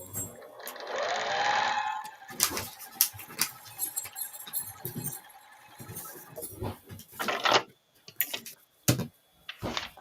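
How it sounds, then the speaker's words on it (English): Sewing machine stitching along a foundation paper piecing line in a quilting project, a brief whirring run near the start, then scattered clicks, taps and handling noises of fabric and paper. "We're going to sew on the line again, starting inside of the seam allowance and coming across"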